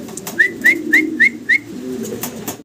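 Fancy pigeons, Mundian among them, call close by in five quick, evenly spaced notes over a low background murmur.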